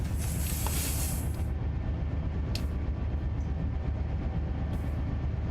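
A freight unit train bound for Trona rumbles past nearby, a loud continuous low roar of rolling wagons with bursts of high hissing and squeal.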